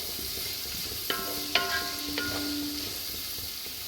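Carrot, capsicum and beans frying for paneer pulao give a steady hiss with a few sharp clinks of a spoon against the pan.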